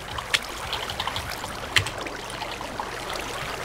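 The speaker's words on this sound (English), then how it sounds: "I can hear water underneath us." Faint trickling stream water in a video game, a steady low wash with a couple of brief splashy peaks, heard alone without talk.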